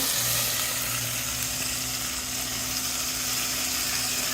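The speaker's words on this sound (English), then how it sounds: "We're going to caramelize this." Brown sugar caramelizing in a hot frying pan, a constant close sizzle with a low steady hum underneath, no voices.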